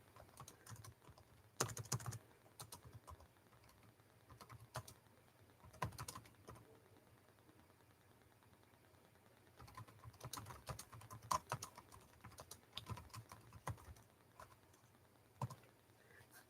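Typing on a computer keyboard, quiet irregular bursts of key clicks with pauses in between, close but faint, with no talk.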